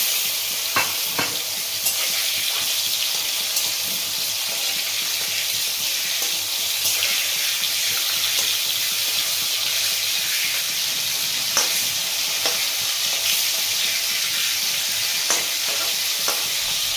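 Hilsa fish pieces fry in a kadai with turmeric and green chilli, giving a steady bright sizzle with occasional stirring clicks and scrapes, no one talking.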